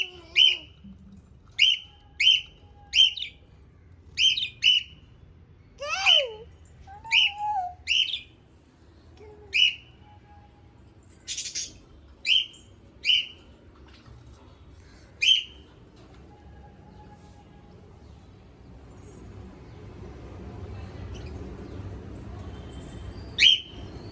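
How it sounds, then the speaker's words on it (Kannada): Small birds near a home give bright, sharp chirps and whistled calls in quick irregular bursts, fairly close, then fall quieter as a low background hum rises toward the end. "ಪಕ್ಷಿಗಳು ಏನು ಮಾಡುತ್ತಿವೆ ನೋಡಿ."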